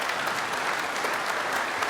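An audience applauding for a comedy podcast host, a brief, dense and even burst of clapping throughout.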